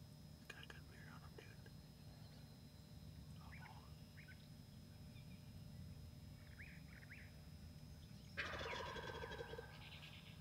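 A wild tom turkey gobbles loudly near the end, a rapid rattling call, after faint distant bird calls and soft whispering over steady outdoor background noise by a cornfield.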